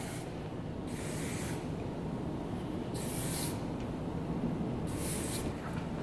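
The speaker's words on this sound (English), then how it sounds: "You want to use a flexible hairspray because the pony is going to be moving around a lot throughout the day" Bursts of Evo Miss Malleable flexible hairspray mist onto hair in a ponytail, three short hissing sprays spaced about two seconds apart over a steady low background hum.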